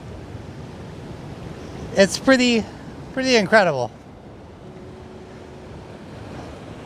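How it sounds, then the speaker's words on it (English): Steady surf from ocean waves rolls on throughout, with a person speaking briefly over it near the middle before the wash continues alone. "listening to the waves coming in."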